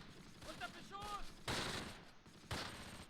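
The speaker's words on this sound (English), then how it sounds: "there is fire coming out of this trench." Bursts of gunfire pour from a trench in the Close Combat game's 1944 Grafwegen battle near Arnhem, with two sharp loud volleys cutting through a busy background of battle noise and faint chirps.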